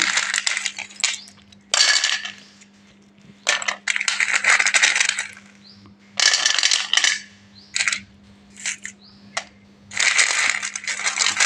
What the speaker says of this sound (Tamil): தின் ஸ்லேட் பென்சில் ப்ரோக்கன்ஸ் எல்லாமே நம்ம வந்து எடுத்து வச்சுருக்கோம்